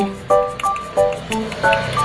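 A dog laps water at close range in quick, wet slurping bursts, about five or six in two seconds, with no talking over it.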